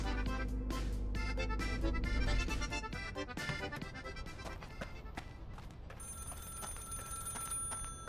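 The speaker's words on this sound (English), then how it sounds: "Comrade, the phone is ringing." A telephone rings in the video game Contraband Police, a bright repeated electronic ring over game music and clanks, fairly loud and up close, with no speech during it.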